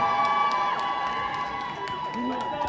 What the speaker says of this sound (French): Est-ce que vous pouvez l'applaudir comme tout ça, s'il vous plaît, mesdames et messieurs?